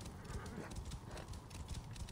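Horse hooves clip-clop at a steady trotting rhythm on a path in Assassin's Creed Origins, close and continuous for the whole stretch, with game ambience underneath and no talk.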